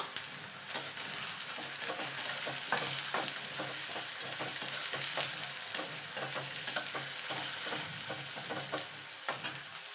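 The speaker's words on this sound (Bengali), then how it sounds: "দেখুন বন্ধু তেলটা গরম হয়ে গেছে এখানে পেঁয়াজ কুচিয়ে রেখেছি সেটা দিয়ে দেবো দিয়ে পেঁয়াজটাকে ভেজে নেবো" Chopped onions frying in hot oil in a pan, a steady, moderately quiet sizzle broken by frequent crackling pops and occasional stirring strokes.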